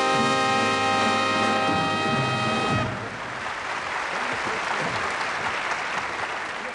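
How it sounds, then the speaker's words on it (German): An orchestra holds a sustained chord on stage in a television show hall, and the studio audience then takes over with steady, full applause that continues to the end. "Mit einem kleinen Applaus."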